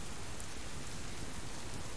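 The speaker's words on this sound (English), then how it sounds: "here comes the rain" Steady rain in the Subsistence survival game, a soft continuous hiss of drops on surfaces, faint and even throughout with no other sounds.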